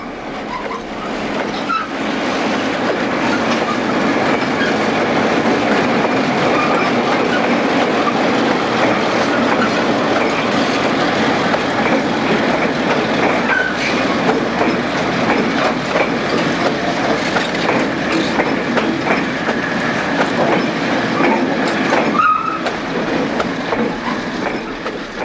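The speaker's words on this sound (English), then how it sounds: "the crew's first task is to marshal the train" A Newfoundland Railway freight train is marshalled in the yard at Bishop's Falls, a continuous loud rumble of rolling cars with clanks and brief wheel squeals throughout.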